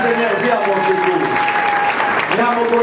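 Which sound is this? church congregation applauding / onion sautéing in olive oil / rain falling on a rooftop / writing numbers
church congregation applauding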